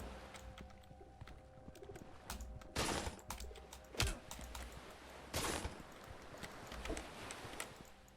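Birds coo softly and repeatedly in Railgods of Hysterra, a low background murmur under faint ambient game sound and occasional louder clicks or thumps.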